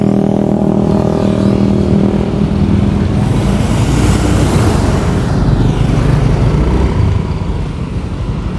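Motorcycle engine accelerating uphill on a rainy tour in Ciwidey, a loud close drone that rises in pitch and holds for several seconds, easing slightly at the end.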